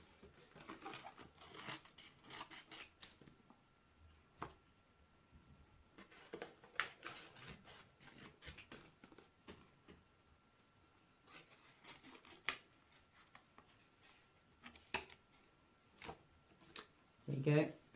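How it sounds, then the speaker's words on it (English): Scissors snip away excess paper from homemade paper reading spectacles, making faint, irregular crisp cuts and rustles spread across a quiet stretch. "So then it's easier to cut away the excess paper."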